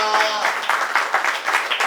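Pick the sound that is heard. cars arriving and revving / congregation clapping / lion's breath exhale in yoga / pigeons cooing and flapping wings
congregation clapping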